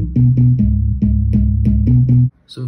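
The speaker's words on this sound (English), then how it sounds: "We got this lead like pluck bass." Pluck bass lead in a UK garage remix plays alone and up close as a bouncy run of short, loud, punchy notes in a rhythmic pattern that ends with a brief tail.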